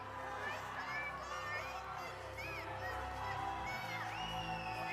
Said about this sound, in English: Crowd right behind you.